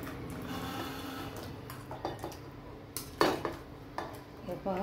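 Cowpeas are spooned bit by bit into a cooking pot with a little water, bringing a soft simmer and a series of metallic clinks and scrapes of spoon against pot.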